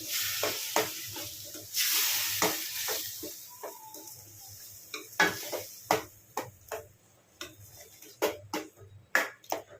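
Egg curry with cumin powder and garam masala is stirred in a pot. It opens with loud sizzling, then a ladle scrapes and knocks against the metal in sharp, uneven strokes, close and prominent.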